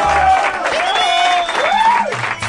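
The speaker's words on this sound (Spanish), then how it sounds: "Un aplauso a Joker, cara." A crowd applauds and whoops for Joker in a lively setting, a dense wash of claps and cheers lasting throughout, mixed with overlapping voices.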